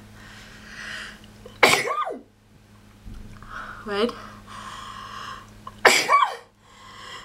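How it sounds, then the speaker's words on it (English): A close, sharp sneeze bursts out between bits of speech, followed later by a second loud sneeze-like burst; a low steady hum runs underneath. "I think I have to sneeze."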